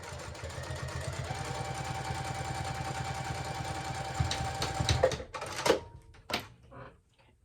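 A sewing machine runs a steady, close mechanical chatter while top stitching a clutch pocket, then stops; a few clicks and handling knocks follow near the end.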